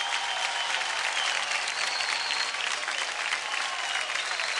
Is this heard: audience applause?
yes